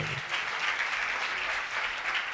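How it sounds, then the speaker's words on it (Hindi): Church congregation at a sermon applauding in a steady, dense wash of clapping that holds throughout, fairly loud and even. "जोरदार तालियां।"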